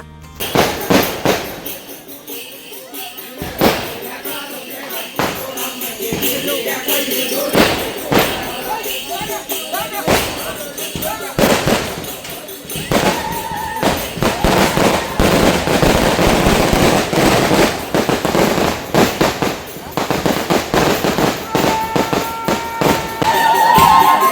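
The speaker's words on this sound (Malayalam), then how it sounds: "ഇതിന്റെ ഇടയിൽ പടക്കം പൊട്ടിയപ്പോ" Firecrackers burst at a temple festival in rapid, uneven volleys of loud sharp pops and bangs, growing denser and more continuous, with a noisy crowd beneath.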